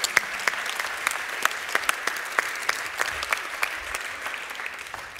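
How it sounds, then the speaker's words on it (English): A church congregation applauds, a moderate field of scattered hand claps with some sharper individual claps standing out, steady for several seconds then slowly thinning. "we can clap for you"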